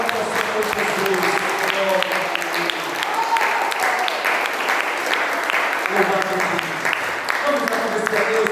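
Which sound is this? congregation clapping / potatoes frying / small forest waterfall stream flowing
congregation clapping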